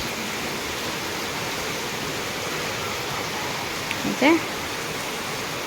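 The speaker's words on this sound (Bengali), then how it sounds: "আর এক্ষুনি ঝড় ঝড় করে বৃষ্টি" Steady broadband hiss of a sudden heavy rain shower pouring down, constant and enveloping, with a brief faint voice near the end.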